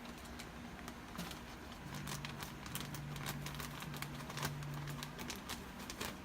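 Scissors snip and crinkle through a plastic bag of aspen bedding for a ball python cage, a run of small crackling cuts and rustles at close range over a low steady hum.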